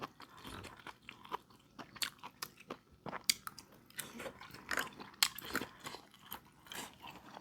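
Close, crunchy chewing of Thai papaya salad with chewy noodles, pork sausage and salmon: irregular wet bites and mastication sounds, fairly quiet, with no talking.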